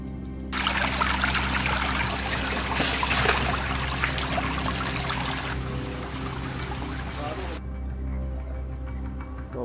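Water rushes loudly and steadily along a creek beside a coastal trail in the Philippines, a close broadband wash that cuts off near the end over a low constant hum.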